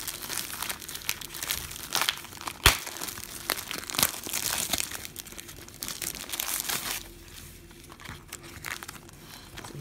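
Cars 3 sticker packets are torn open and handled, giving close crinkling and ripping of foil wrappers with a few sharper tears along the way and no talking.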